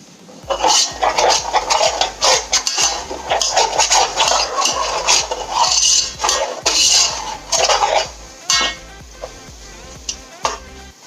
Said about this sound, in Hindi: मैं चिकन वॉश कर लेता हूँ